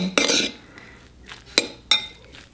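Butter stirred into a pot of vegan exotic mushroom rice, with a few sharp utensil clinks and scrapes against the pot, close and fairly clear, separated by quieter pauses.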